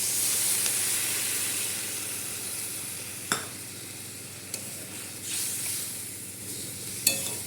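Curry cooking in a pan hisses and sizzles steadily after water is poured in, with a few sharp clinks from stirring over the close, continuous frying noise.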